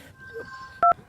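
Telephone keypad dialing, a short faint tone followed by a louder distinct two-tone beep near the end, close and clean with a quiet background.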